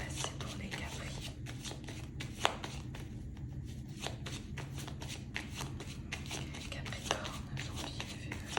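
Tarot cards being shuffled for a reading, a close, soft, continuous riffling and flicking of card stock with occasional sharper snaps, quiet and steady throughout.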